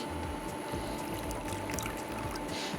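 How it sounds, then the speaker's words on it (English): Cold water is poured onto gelatin in a kitchen, producing a continuous low trickling pour at close range that stays steady for a few seconds, with no voices over it. "So you pour your cold water in there."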